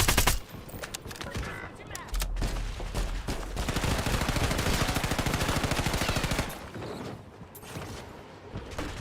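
Rapid automatic gunfire from a Call of Duty match, a sustained burst of dense shots lasting several seconds, loud and close, with brief chatter of players talking before and after.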